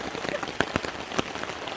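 Rain pours down at a family campsite in Florida, a dense steady patter with sharp individual drops tapping close by, moderately quiet and uninterrupted.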